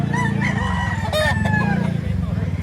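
A rooster crows in long rising-and-falling calls amid a busy chicken auction, with a loud steady hum and other fowl underneath, and a voice speaks briefly.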